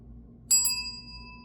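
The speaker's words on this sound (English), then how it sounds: "I'll ring the bell." A single bright bell is struck once, ringing out clearly and close, its shimmering tone slowly fading over the following second in an otherwise quiet room.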